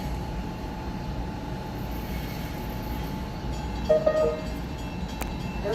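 A Princeton Dinky shuttle train passes the station as a steady low rumble with a sustained tonal hum, and a brief higher squeal or horn-like tone rises midway through, heard at moderate distance with no talking.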